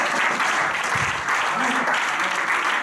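A church congregation applauding loudly, dense sustained clapping filling the room throughout with voices mixed in.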